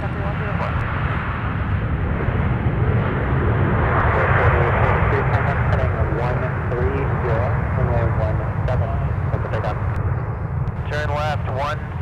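Sun Country airliner landing at MSP airport, a loud steady jet roar filling the scene throughout while voices talk over it.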